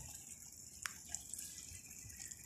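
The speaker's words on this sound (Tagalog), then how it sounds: "Dito direktang umaagos yan, tumutulo, pumupuslit yung tubig." Faint water trickles and drips steadily in a garden irrigation setup, a soft continuous hiss broken by a few small, close drip ticks.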